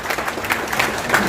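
Audience clapping for a senator at a public gathering, a brief burst of scattered applause from a crowd, moderately loud and continuous for just over a second.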